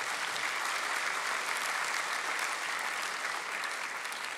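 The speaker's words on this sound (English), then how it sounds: "you can give them a round of applause" An audience at an opening ceremony applauds a group of student musicians, a steady, even wash of many hands clapping heard from a distance at low volume, with no voices over it.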